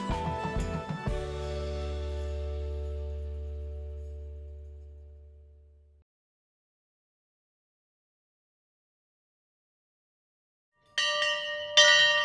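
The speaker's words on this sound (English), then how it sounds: "Coach Mont relinquished the bell as the men from Crawfordsville celebrated their reclaimed prize" The Monon Bell, a large railroad bell trophy, rings out loudly in a single heavy stroke at a college football celebration, its deep tone decaying over several seconds into silence before a fresh burst of bright clangs returns.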